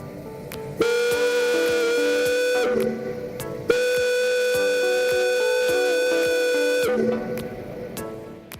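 Two long, loud blasts of a steam whistle on a tower, a rich sustained tone held for seconds each, with brief pauses and faint background noise between.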